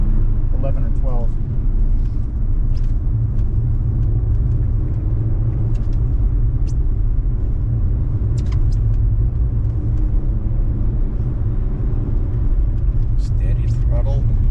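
An Audi Quattro-event track day car runs at speed on the circuit, giving a constant loud low engine and road rumble from inside the cabin, with people talking over it.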